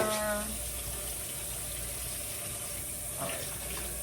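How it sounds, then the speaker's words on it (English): Tap water runs steadily into a sink while a cup is rinsed, a constant close rushing stream with a faint clink partway through. "And I'm going to rinse out my cup."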